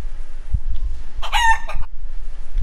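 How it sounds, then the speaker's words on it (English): A rooster crows once in Genshin Impact, a short loud cock-a-doodle-doo in the middle, over a low rumbling background with faint thumps. "Can I shoot the bird?"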